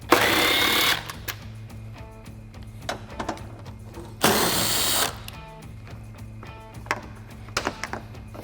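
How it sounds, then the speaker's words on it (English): A 10mm socket and clip tool remove headlight bolts on a 2019-2023 RAM 1500 pickup, with two whirring bursts and scattered small clicks and ratchet ticks between them. "I'll just use my 10mm socket and my clip tool and pull those out"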